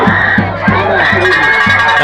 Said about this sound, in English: The Hornet crowd are really getting excited here.